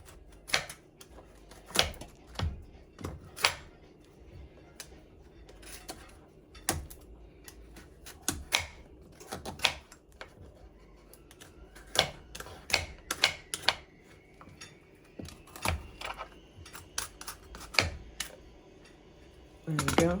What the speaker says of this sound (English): I'm getting butternut squash peels all over the place, but I'm making progress.